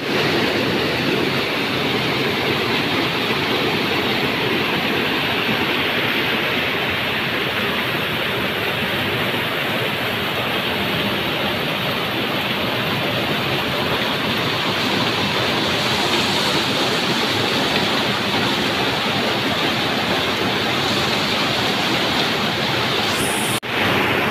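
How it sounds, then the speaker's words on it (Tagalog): A waterfall in a canyon in Samar, Philippines roars as a loud, continuous broadband rush of falling water, close and unbroken throughout. "second waterfall"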